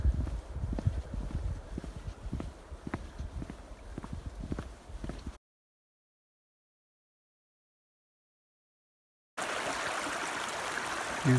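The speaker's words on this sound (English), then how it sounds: "Here's the Snowy River crossing" Water flowing at the Snowy River crossing in the Snowy Mountains, a steady rushing stream with irregular clopping knocks early on, then a gap of silence before a louder, brighter burst of rushing water.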